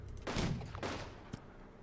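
Artillery fire in the Unity of Command 2 strategy game, Heeresgruppe Nord mission: two quiet, muffled bursts of shelling close together, then a small sharp pop, heard alone.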